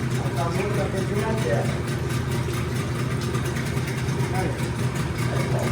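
A Hidea 15 PRO two-stroke outboard motor runs steadily and loudly throughout, a continuous engine drone at constant throttle with no pauses.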